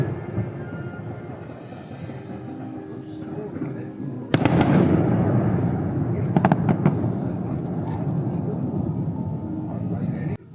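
Fireworks launched from the castle at Disney World, a sudden loud burst followed by a rolling series of crackling booms and pops that continue steadily, with people talking nearby.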